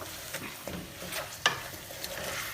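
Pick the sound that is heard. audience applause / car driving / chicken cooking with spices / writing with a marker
chicken cooking with spices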